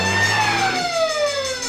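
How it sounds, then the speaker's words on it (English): A fire engine siren wails in a falling sweep, loud and close, with steady background noise under it. "The siren blows."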